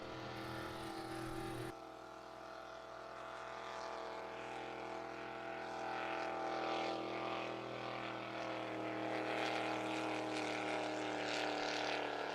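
Drag racing boat 707, nicknamed Cracker Jack, runs at a San Angelo qualifying event with a loud, sustained engine roar that steps up after a brief start and holds steady throughout.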